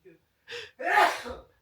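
A single sharp sneeze preceded by a quick intake of breath, close by, with a brief faint sound just before it.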